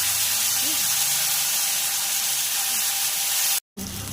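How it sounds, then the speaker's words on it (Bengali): A spice paste of cashews, raisins, poppy seeds and nuts frying in hot oil for a shahi paneer gravy gives a steady, close hiss and sizzle that cuts out briefly near the end. "এটা দিয়ে আমি ভালো করে তেলের মধ্যে দিয়ে ভালো করে কষিয়ে নেব।"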